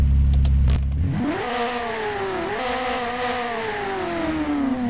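A Ferrari F8 Tributo in a driving simulator game starts with a short crank and catch, then settles into a rising rev and a high, sustained engine tone that slowly falls, close and without talk.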